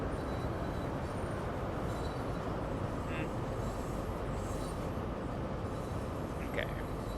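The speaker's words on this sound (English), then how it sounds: "our train is now very slowly and quite horribly pulling away." Class 43 HST diesel train slowly pulling away in Train Sim World, a low steady engine drone and rolling rumble, faint and continuous, with a couple of brief high tones.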